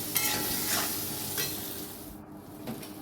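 Potatoes fry in a pan with salt and turmeric, giving a steady close sizzle with faint stirring scrapes and no talking.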